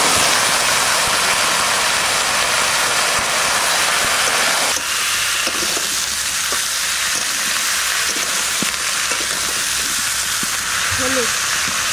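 Malabar spinach stalks and vegetables go into hot oil seasoned with bay leaf and Bengali five-spice, a loud continuous hissing sizzle that shifts and settles partway through, with faint clinks of a spoon.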